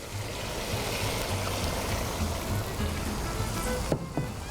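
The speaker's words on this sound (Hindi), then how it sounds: "अब जा रही है इसमें यखनी" Yakhni stock poured into meat frying in a pan, a continuous loud sizzle with bubbling throughout and a couple of brief utensil knocks near the end.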